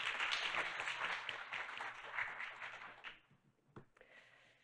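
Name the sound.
audience applause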